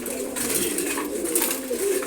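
Caged pigeons, including a female Giachuli pigeon, on a home loft: a soft, continuous low cooing close by, with faint rustling and no clear pauses.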